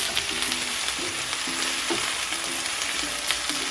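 Spinach sizzles steadily in a pan still coated with browned bits left from frying salmon, a close, continuous hiss broken by occasional scrapes and stirs, with no voices.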